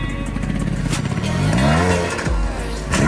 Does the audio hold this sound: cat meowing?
no